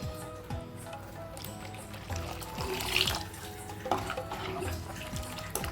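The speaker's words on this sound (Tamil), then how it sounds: "தேவையான அளவு தண்ணி ஊற்றிக்கலாம்." Water splashes and trickles steadily into a vessel for several seconds, with faint clinks and background hum underneath.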